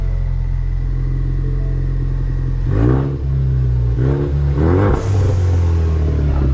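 A Ford Mustang's engine idles loudly with a deep rumble, then is revved three times in quick succession, each burst rising sharply and dropping back, close and powerful.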